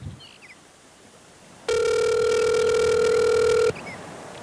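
A telephone ring tone sounds during a phone call, one steady electronic tone lasting about two seconds, loud against a quiet room background.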